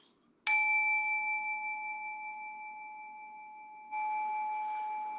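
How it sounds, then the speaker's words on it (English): A meditation chime struck once with a bright metallic attack, then a long, clear ringing tone that slowly fades over several seconds, a soft rustle joining near the end. "So I'm gonna just go ahead and ring the chime anyway."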